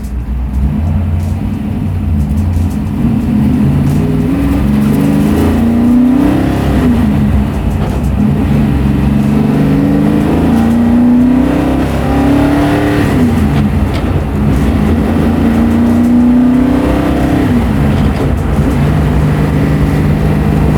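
A 700-horsepower big-block 1964 Ford Galaxie accelerating hard, its loud, deep engine roar climbing in pitch through several gear pulls without a break, heard from inside the car.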